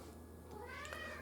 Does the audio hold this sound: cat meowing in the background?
yes